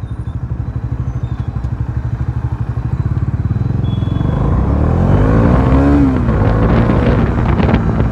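A Bajaj Dominar 400 motorcycle, 2023 model, idles with a steady thumping engine pulse up close, then the engine note rises and roughens as it revs, with wind buffeting the microphone.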